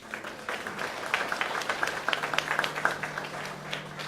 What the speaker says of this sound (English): let's give him a warm round of applause for Graham Davis